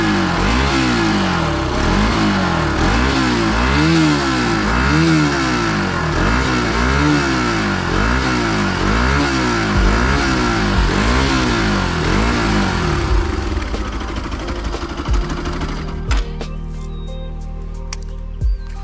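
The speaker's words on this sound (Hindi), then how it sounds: "एक बार एग्जॉस्ट के साथ आप बाइक की साउंड सुन" Bajaj Pulsar RS200 motorcycle with its stock exhaust, revved hard in a steady repeating rise-and-fall pattern for about thirteen seconds, then dropping back to a lower idle-like rumble with some clicks near the end; loud and close, no talk.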